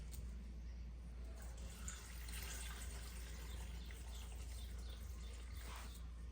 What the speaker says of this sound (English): I'm going to pour a little bit of water into the blender, not much